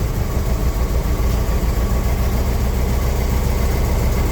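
A car engine idling steadily after its timing has been advanced, a constant close rumble with no voices and no change in speed.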